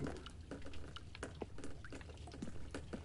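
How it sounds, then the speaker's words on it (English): Water leaks and drips inside The Stanley Parable video game, a quiet run of small irregular drops and trickles over a faint background hiss. "Got a water leakage here."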